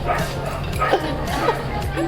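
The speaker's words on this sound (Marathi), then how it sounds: "कुत्रे आले" Several short, yelping dog barks ring out close by amid a busy, noisy background.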